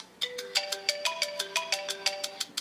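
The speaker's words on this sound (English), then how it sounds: "That sounds like the ringtone." A custom iPhone ringtone plays a bright repeating melody of short plucked electronic notes, evenly spaced pulses at moderate volume with no voices.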